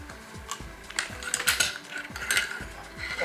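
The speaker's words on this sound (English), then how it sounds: "So you just unscrew the charging handle, the front end." A TGR2 gun's charging handle is being unscrewed: quick, close metallic ratcheting clicks repeat in a steady rhythm, with light rattles of small parts between them.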